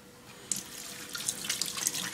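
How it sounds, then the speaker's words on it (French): Hands rubbed together under a running kitchen tap after handling onion, a steady splashing stream with brief wet rubbing bursts, close and alone. "bien frotter sous l'eau claire"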